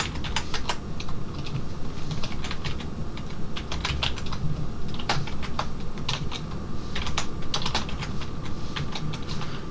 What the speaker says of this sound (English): I'm just gonna type everything myself.